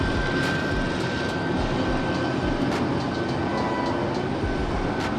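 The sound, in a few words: helicopter and airplane passing overhead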